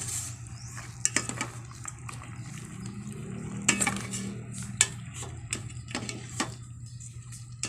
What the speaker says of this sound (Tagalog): Yan, haluin natin kunti.